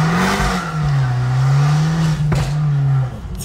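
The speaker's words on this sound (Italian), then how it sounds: "pensa se sanno che io sono qua sopra questa macchina che fa così rumore" A car engine hums at a steady, loud idle-rev with a low drone throughout, briefly spiking near the end before cutting off abruptly; heard from inside the vehicle.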